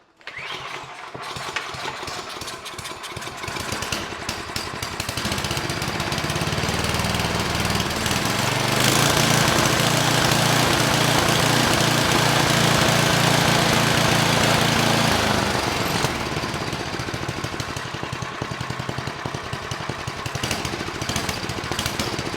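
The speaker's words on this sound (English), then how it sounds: "I guarantee if I run it right now, it will actually idle down" A Tecumseh snow thrower engine with a fault that makes it run only at full speed starts up with a few rattling pulls. It then roars steadily and loudly up close, revving high with no voices.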